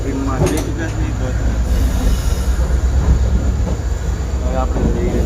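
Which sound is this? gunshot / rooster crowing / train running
train running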